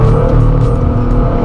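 A supercar power sliding on a wet road in the rain, heard as a brief, loud, close roar of the engine under heavy throttle.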